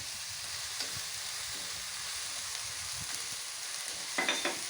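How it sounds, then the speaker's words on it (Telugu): Ground paste of two raw onions fries in a pan for a Rayalaseema-style boti and liver curry, giving a steady close sizzle with occasional soft stirring scrapes and a brief clink near the end. "మిక్సీకి వేసుకొని ఇంత పెట్టుకున్నామండి పచ్చా పచ్చగా అది కూడా వేసి వేయించుకోవాలి"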